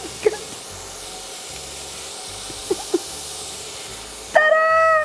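Finely chopped onion sizzles in melted butter in a pan for grandmother-style cretons, a steady close hiss broken by a few light clinks, growing louder at the end.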